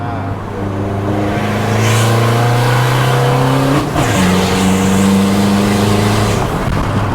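A car fitted with an aftermarket exhaust revs loudly and nearby, its engine tone rising and falling through several pulls with a raspy, droning note and a brief dip midway, while voices speak faintly underneath.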